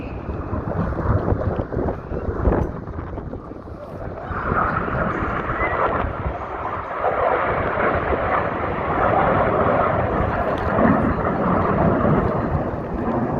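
Red Arrows jets turning hard at the Sola airshow, a broad, continuous distant roar with rumbling low end and shifting tone as the aircraft sweep past, buffeted by wind on the microphone.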